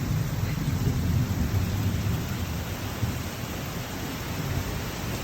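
Thunder rumbles through a thunderstorm beneath a steady, loud rain-like roar that carries on without a break.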